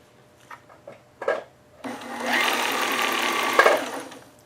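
After a few faint taps and knocks, a sewing machine fitted with an upgraded motor runs steadily for a little over two seconds, stitching through a small piece of fabric with an even, fairly quiet whir and a brief clatter near the end.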